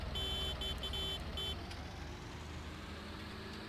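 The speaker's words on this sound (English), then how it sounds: "Sounds like all the tractors got the same little beepity beepy horn." A tractor horn in the Farming Simulator 19 video game gives a rapid string of thin, high beeps over a steady engine drone, then stops, leaving only the engine running.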